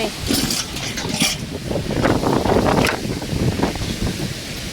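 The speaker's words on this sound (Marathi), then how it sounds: "लय वारं सुटले बघा." A strong gusty wind roars and buffets the microphone continuously, a thick rushing blast that swells and eases without pause.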